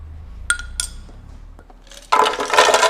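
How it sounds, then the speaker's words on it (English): A cup full of ice is added for a cold brew frappe: a couple of bright clinks of ice against a cup, then a loud rattling pour of cubes tumbling in, close up. "1 cup full of ice"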